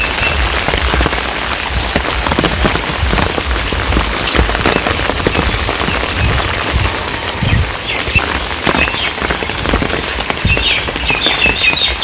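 Steady rain pours down on a village, a dense continuous patter on surfaces lasting throughout, with faint bird chirps scattered in the background and no voices.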